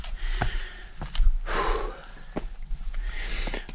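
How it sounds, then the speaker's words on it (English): A hiker heaves heavy, labored breaths while climbing Ampersand Mountain, close and fairly loud, with gasping inhales and long exhales over faint footsteps. "Breathing hard enough"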